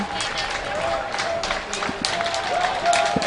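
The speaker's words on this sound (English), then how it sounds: "people along the parade route tipping their hats, applauding them" Spectators lining a Fourth of July parade route in Bristol applaud at a moderate distance, steady scattered clapping mixed with crowd murmur and a few whistle tones, with talk over it.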